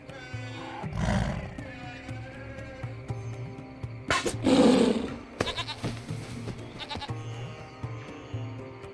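A limping, injured goat in the video game Lost Horizon bleats twice, distinct cries over quiet game ambience and music.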